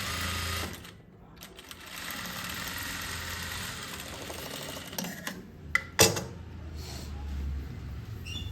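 A sewing machine runs steadily, stitching cloth during a tailoring class. The close, continuous mechanical whir breaks briefly near the start and gives a sharp click toward the end.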